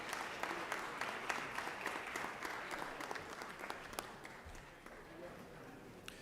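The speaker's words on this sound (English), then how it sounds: "please welcome them with a round of applause" A legislative chamber breaks into a round of applause to welcome guests: dense, steady clapping from many hands, fairly distant, tapering slightly toward the end.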